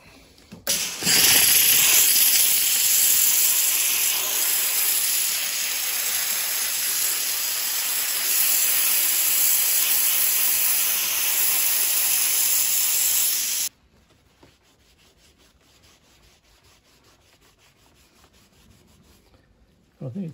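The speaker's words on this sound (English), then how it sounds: "let's give a steamer a go" A steamer hisses loudly and continuously for about thirteen seconds while old adhesive is removed on a Lotus Elan +2 130/5, then cuts off abruptly, leaving faint background before a brief sound at the end.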